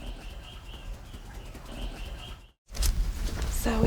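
Birds at a wild bird rescue, including a great black-backed gull, give soft calls, chirps and cooing with occasional wing flaps in a quiet indoor space, broken by a brief cut before louder bird sounds resume.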